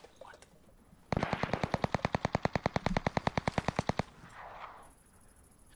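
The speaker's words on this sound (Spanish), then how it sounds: "Escucho tiro, escucho pasos por acá." Rapid automatic gunfire in the battle royale game Cuisine Royale, a loud burst of about three seconds of evenly spaced shots, with faint ambient noise before and after.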